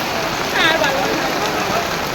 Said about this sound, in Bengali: যা বৃষ্টি পড়ছে গাইস, আমাদের আর দেখা হচ্ছে না